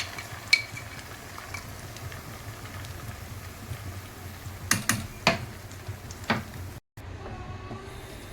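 Red chili paste roasts in ghee after golden-fried onions for a ghee roast chicken, with a steady low sizzle under scattered spoon scrapes and a few sharper clicks near the middle.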